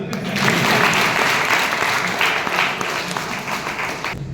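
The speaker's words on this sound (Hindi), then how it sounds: "एक बार जोरदार ताली।" An audience at a business success-story seminar breaks into loud, sustained applause, dense clapping that holds steady for several seconds before easing slightly at the end.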